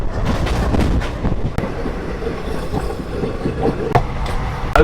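Interior of a moving passenger train on a Mumbai journey, with continuous rumbling wheel noise, rattling carriage and scattered clacks and knocks, loud and close, no talk.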